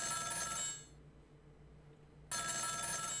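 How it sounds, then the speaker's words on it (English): Telephone ringing in the video game Ghost Trick: Phantom Detective, a bright electronic ring that sounds, drops out into a near-silent pause, then starts again, clear and alone. "The telephone is ringing."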